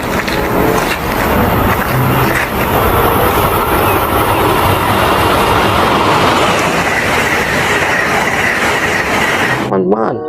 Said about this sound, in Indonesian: Wah, ada kereta api teman.